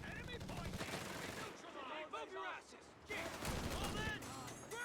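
Machine gun bursts and scattered gunfire from the video game Company of Heroes 3, a US Jeep drawing fire, rattling in short volleys with man-made voice talking over much of it.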